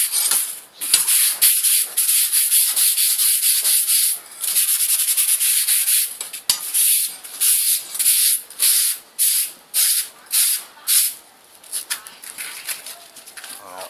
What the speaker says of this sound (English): that's why I have this tile cleaner and had some 220 grit sandpaper on it